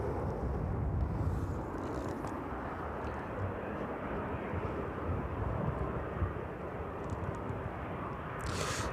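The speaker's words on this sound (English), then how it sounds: "Just touching down out, so we'll leave that 777" Boeing 777 touching down at East Midlands Airport in the evening, a faint, distant broadband engine rumble that stays steady and even for the whole stretch.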